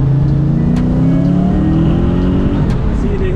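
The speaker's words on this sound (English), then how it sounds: "Second gear pull from 3000, but I'm gonna back off because my AFR," A supercharged Lexus-Toyota V8 pulls hard in second gear from 3000 rpm, its loud engine note climbing steadily in pitch from inside the car, with a voice heard over it.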